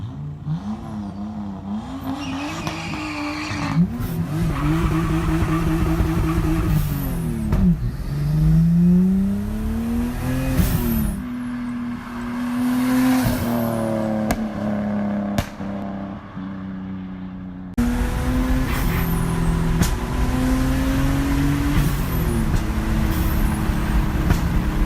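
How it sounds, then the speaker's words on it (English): Nissan 240SX engine revving hard and continuously, with rising and falling pitch as the car performs burnouts, close and loud throughout with no one talking. "I have a few clips of burnouts and stuff I did"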